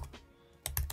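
Keystrokes on a computer keyboard while logging in over SSH, a faint tap or two followed by a quick close burst of typing with no talk.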